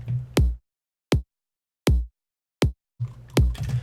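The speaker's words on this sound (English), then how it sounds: "So if you listen to the regular kick, it sounds like this." Four short, punchy kick drum hits from a music mix sample sound at an even pace with silence between them, followed by a fuller burst of the mix.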